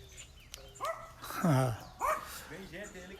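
A small dog at a ranch gate gives a few close barks and whimpering yips, mixed with people talking nearby.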